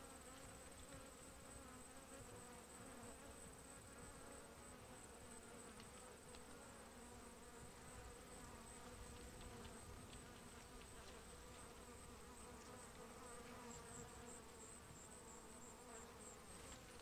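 A swarm of honey bees (Apis mellifera) hums steadily and densely for the whole stretch, a close, continuous buzzing mass of wings with scattered individual bees zipping nearby and no voices.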